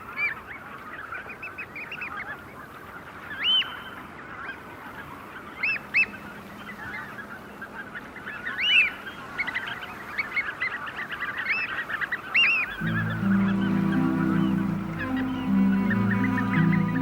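Flock of geese honking continuously across a wide winter estuary as they spread out to feed, calls overlapping at middle distance, with a low droning tone rising near the end.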